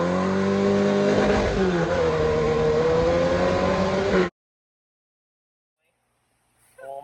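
Kyle's build truck with its engine running, a loud, close revving roar whose pitch rises and falls for about four seconds before cutting off abruptly into near silence, followed by a faint sound at the end.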